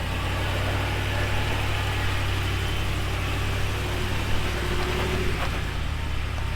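Off-road vehicle with a broken ball joint driving at Hells Gate, its engine a steady low rumble and drone throughout, loud and continuous with no talk.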